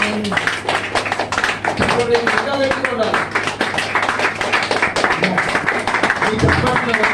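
A church congregation claps their hands in quick, uneven bursts of many palms. The claps sound close and fairly loud, running under a voice speaking throughout.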